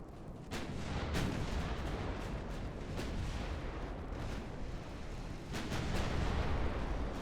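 Warship guns in the naval video game Ultimate Admiral: Dreadnoughts fire in a rolling barrage, dense rumbling booms with several sharper, louder shots standing out.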